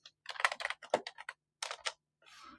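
Quiet keystrokes on a computer keyboard while composing an email come in short, irregular bursts of clicking with brief pauses between them. Near the end there is a softer patter.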